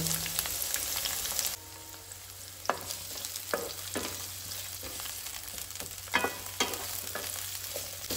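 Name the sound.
onion frying in hot oil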